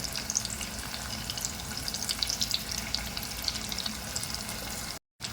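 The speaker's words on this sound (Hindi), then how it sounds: "अरवी देखिए अच्छे से हमारी फ्राई हो रही है" Arbi (taro root) pieces fry in hot oil until golden, giving a soft continuous sizzle with fine crackling, fairly quiet and steady, broken by a brief dropout near the end.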